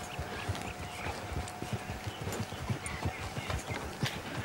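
Horse hooves clip-clop steadily in the video game Red Dead Redemption 2, a soft, even walking rhythm heard under faint background ambience.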